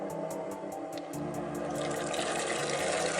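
Water runs and splashes steadily while mortar-mixing gear is rinsed on a building site, a continuous close wash that swells louder partway through.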